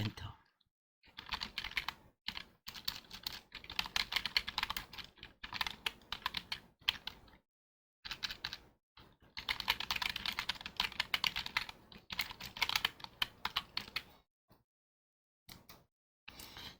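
Rapid keystrokes on a computer keyboard come in bursts separated by short pauses, quiet and close, with no voice.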